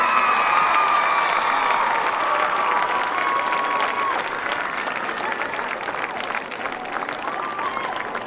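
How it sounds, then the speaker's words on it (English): Football fans in the stands applaud and cheer a newly crowned high school homecoming queen, sustained dense crowd clapping with scattered shouts, loud at first and slowly easing off while whistles and voices rise through it. "How about a round of applause, fans?"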